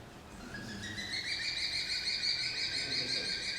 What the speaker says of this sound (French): d'où le nom du faucon cresserelle aussi, on a l'impression qu'on tourne une cresserelle